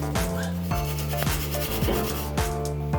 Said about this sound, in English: Try to clean this up with a wire brush.